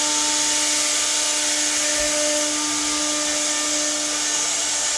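Four CNC machines run together in a workshop, giving a loud, constant whirring hum with steady tonal whines layered over broadband machine noise.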